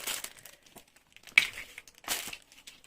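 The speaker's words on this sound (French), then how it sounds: "je mets du tape, hein, du tape de masquage en fait" Masking tape crinkles and pulls off the roll in a few short bursts as it is laid along the edges of a painting canvas, close and alone.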